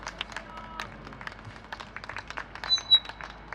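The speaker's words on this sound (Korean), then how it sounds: "응원의 박수 부탁드립니다" An audience at a rally against dam construction gives scattered, light applause in support, the claps loose and uneven and fairly close, with a few louder claps near the end.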